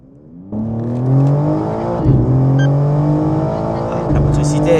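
A BMW M4 G82 Competition with Akrapovic exhaust, in four-wheel-drive mode, accelerates hard from inside the cabin, its engine note climbing steadily through gear changes, loud and close, with a short voice underneath.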